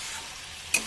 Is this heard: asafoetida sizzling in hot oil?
yes